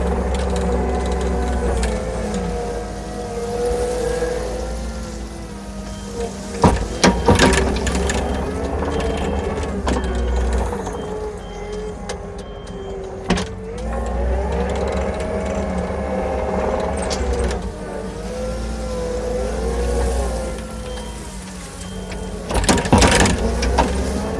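A skid steer loader scoops and piles material, its engine droning steadily throughout with hydraulic whine and occasional clanks and knocks as the bucket works.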